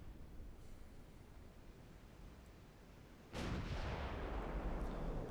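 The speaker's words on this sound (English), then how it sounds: "looks like we're engaging with both the 12-inch guns now" Twelve-inch naval guns fire in the Russian campaign of Dreadnought Improvement Project, a single sudden boom rising out of a steady wash of sea and wind noise, then a lingering rumble, heard from a distance.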